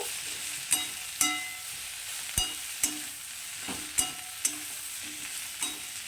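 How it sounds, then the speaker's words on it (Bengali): Small fish in a pan being mixed with chilli powder and salt, with intermittent scraping and clacking stirring hits and a faint sizzle underneath, close and fairly quiet, no voices. "এবার এগুলো সব খুব ভালো করে একসঙ্গে মিশিয়ে নেব"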